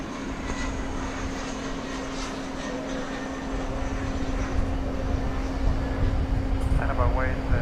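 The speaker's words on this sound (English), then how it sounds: "Got an American Eagle jet arriving from Amarillo" An American Eagle Embraer 175 regional jet arrives at DFW airport at night. Its engines make a steady, broad roar that grows a little louder toward the end, and a constant tone and faint voices sit underneath.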